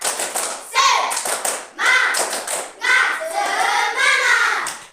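Several voices chant together in bursts, likely children, with rhythmic clapping mixed in, loud and close throughout: an Indonesian school class doing a rhythmic spirit clap in a classroom.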